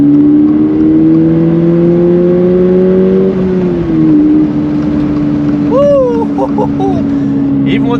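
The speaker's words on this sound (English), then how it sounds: "My passing lane's coming up right now, so I'm gonna downshift." A GR86/BRZ sports car engine on snow tires drones close and loud, its pitch climbing steadily after a downshift to pass on a highway, then dropping and holding, with someone talking over it.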